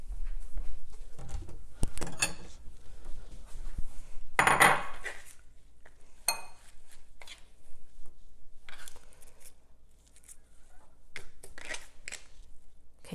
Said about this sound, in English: Let me grab a bowl, toss it in.